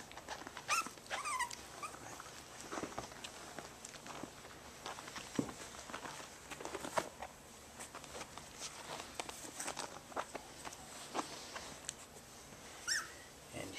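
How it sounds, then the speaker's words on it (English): Five-week-old puppies moving about on a floor, with soft whimpers and scattered yips over light pattering paws and small shuffling footsteps, close and fairly quiet throughout. "This is the Sashay by Rival Pups at 5 weeks, and these are the two girls"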